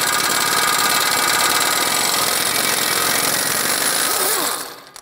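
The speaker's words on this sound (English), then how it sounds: "let's take the axle nut off." An air impact gun removes a tight front axle nut on a 2012-2020 Ford Focus. It gives a continuous loud, buzzing rattle close by for several seconds, then cuts off abruptly near the end.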